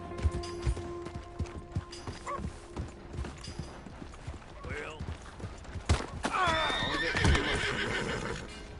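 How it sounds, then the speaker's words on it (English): A horse in Red Dead Redemption II neighs loudly and shrilly near the end, after scattered hoof clops and clattering footsteps in the foreground, with faint voices murmuring underneath. "Hey! My horse!"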